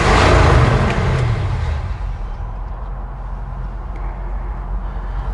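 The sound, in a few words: 1972 Chevy C20 truck engine starting with FiTech EFI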